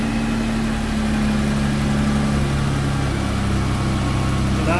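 A car engine idles steadily as it warms up just after starting, with a constant low hum and vibration that stays loud and unbroken, and no talking.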